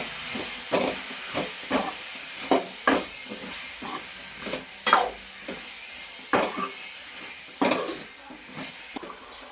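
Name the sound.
brinjal vegetable being sautéed in a pan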